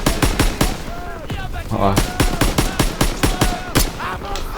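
Rapid automatic weapon fire from a video game rattles in loud, close bursts of sharp shots, pausing briefly midway before resuming, with a brief spoken word over the shooting.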